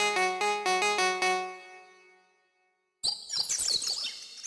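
A mobile phone ringtone plays in a Chhattisgarhi film scene: a run of bright, evenly spaced melodic beeps that fades into silence, followed by a burst of busy chirping electronic tones.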